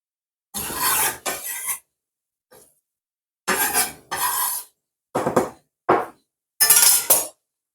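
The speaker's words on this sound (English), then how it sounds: "I'm going to put it in my mortar here." Chopped vegetables and onion drop into a mortar in several separate bursts, each a short rattling clatter and clink with brief silences between.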